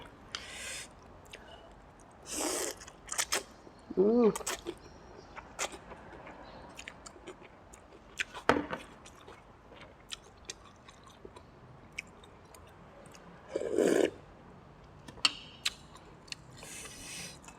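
Someone eats thin rice noodle soup with pork and meatballs up close, with scattered chewing, slurps and small utensil taps separated by quiet pauses.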